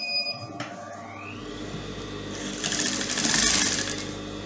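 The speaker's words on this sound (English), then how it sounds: "I'm going to stitch it down with quarter of an inch or half of an inch." A sewing machine stitches down the hem of a long lined pencil skirt, a fairly steady mechanical whir that grows louder toward the end.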